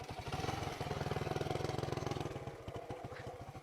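A new motorcycle's engine runs with a rapid, regular low putter, close and fairly loud, then fades toward irregular idle pulses near the end, with no talking over it.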